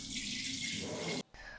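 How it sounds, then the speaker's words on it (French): A kitchen tap runs into a sink to rinse a plate: a steady, close hiss of flowing water that cuts off briefly and then resumes, with no talk. "J'ouvre le robinet pour rincer l'assiette."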